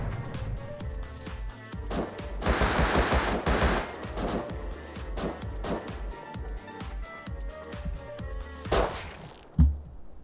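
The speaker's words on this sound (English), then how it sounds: "Fucking double shotgun." A double-barrel shotgun fires in the survival game Rust, with bursts of rapid, crackling shots rolling through the middle, among other gunfire, and a final sharp blast near the end.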